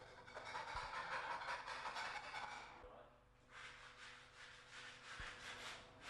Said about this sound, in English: Remove any loose flaking paint with a scraper.